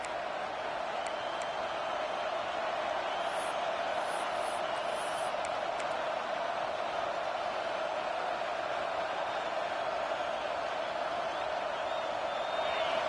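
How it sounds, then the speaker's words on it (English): A steady, broad stadium crowd roar in a college football video game holds evenly throughout, a dense wash of many voices with no breaks or peaks. "The roar of the crowd trying to fuel this defense"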